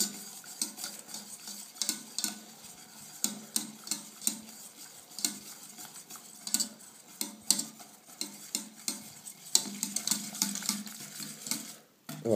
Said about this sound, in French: il faut bien le battre